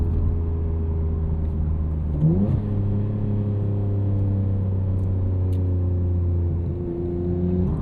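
Twin-turbo engine of a 1999 Nissan Skyline R34 GT-R drones steadily while driving, its pitch shifting through a quick gear change near the start, then holding a smooth, loud cabin hum throughout.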